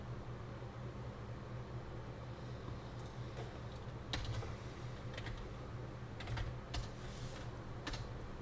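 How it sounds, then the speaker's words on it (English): Computer keyboard typing in a quiet room, faint scattered clicks and short bursts of keystrokes over a steady low hum. "I don't like it when you just start typing."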